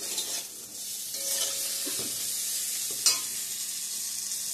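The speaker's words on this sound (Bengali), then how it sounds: "বেগুনটা ভাজা করে নিচ্ছি বন্ধুরা" Eggplant fries in a pan with a close, constant sizzle, with a few light scrapes and one sharp utensil clink partway through.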